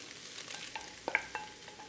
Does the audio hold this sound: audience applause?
no